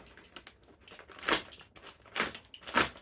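Plastic packaging on a Subbuteo tabletop football set being ripped open, heard as three quiet, short crinkling tears with brief pauses between them.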